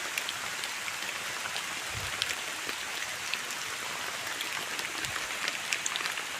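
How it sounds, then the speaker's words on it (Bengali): Steady rain hisses down continuously, a dense patter of drops on surfaces with no voices, evenly loud throughout. "বৃষ্টি ভিজা যাইতেছি"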